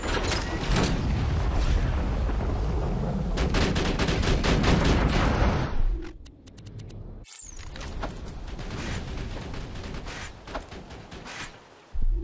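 Axton's deployed sentry turret in Borderlands 2 fires in dense, rapid automatic bursts mixed with mechanical clanks and creaks, a loud sustained barrage that briefly drops out partway before the gunfire resumes amid game effects.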